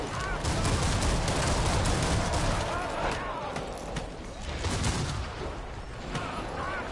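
Rapid gunfire and chaotic combat effects from the video game Killing Floor 2 fill the scene in dense, loud bursts, with a voice talking over the action.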